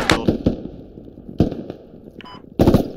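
Gunfire bursts out of a machine gun in the military shooter game Squad, coming in short clustered rattles and sharp cracks that rise and fall, with a loud burst at the end.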